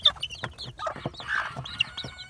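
Chickens clucking close by, a Nagasaki and Cochin cross-breed rooster with chicks: a quick run of short, irregular clucks and chirps, fairly loud and near, with no talking.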